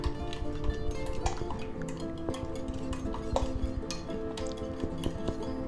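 Eggs and a splash of milk are beaten in a bowl, a utensil clinking and tapping against the sides in a quick, continuous rhythm, with a wet sloshing underneath, close and fairly loud.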